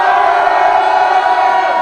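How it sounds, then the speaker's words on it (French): A live crowd at a rap event roars, cheering and shouting together in a loud, dense, continuous wall of voices. "Faites du bruit si vous voulez Scarla"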